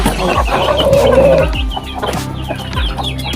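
Chickens cluck close by as they are fed in a rural farmyard, with overlapping busy clucking and scratching sounds throughout.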